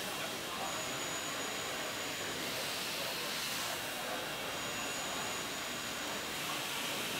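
CNC milling machine cutting an outer contour with coolant fed through the tool holder, a dense steady hiss and whine with a faint high tonal ring that comes and goes.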